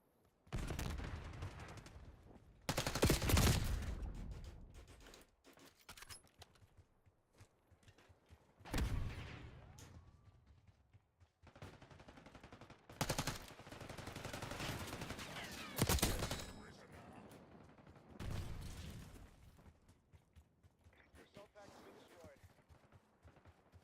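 Marksman rifle fire and other gunfire in Call of Duty: Black Ops 6 multiplayer, heard as several loud separated bursts spaced a few seconds apart, with quieter game ambience and occasional talk in between.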